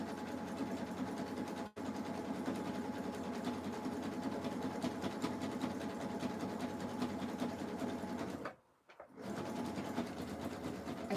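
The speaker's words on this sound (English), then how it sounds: "turn your stitch back to your zigzag and resume sewing" A sewing machine zigzag stitching a jelly roll fabric rug runs steadily near at hand, broken by one brief stop early and a longer pause near the end before resuming.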